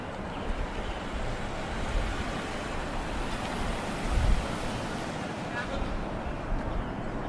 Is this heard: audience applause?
no